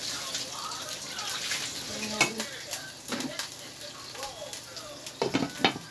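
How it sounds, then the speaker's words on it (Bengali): Potatoes frying in a pan on a home stove, with a low steady sizzle and intermittent scrapes and clinks of a utensil stirring against the pan. "আলু ভাজবো আমি এখন"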